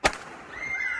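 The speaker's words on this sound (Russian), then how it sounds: "в разных районах города в их честь гремят салюты" A single sharp firework bang cracks out over a city, followed by a fading crackle and a faint whistling tone trailing off in the distance.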